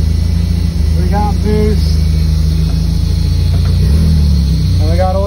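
Car engine running steadily on a first ride before tuning, with boost and oil pressure working but the air-fuel gauge faulty, a loud continuous drone with a few rising whine-like tones over it.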